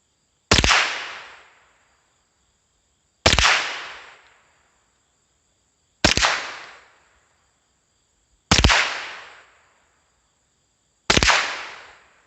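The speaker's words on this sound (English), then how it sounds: "We're going to put 10 rounds. I'm basically just shooting it for function, and just to get some shots through it." Winchester Wildcat .22 LR rifle firing five separate sharp cracks at a slow, even pace about two and a half seconds apart, each with a short decaying tail, loud and with no talk.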